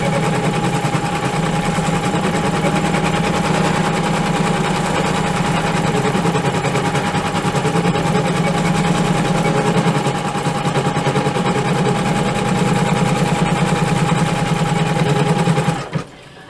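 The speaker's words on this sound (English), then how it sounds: "the first thing that we're going to do is stitch out our outline" An embroidery machine stitches an in-the-hoop outline in a loud, steady, fast mechanical buzz that runs unbroken at close range and stops abruptly at the end.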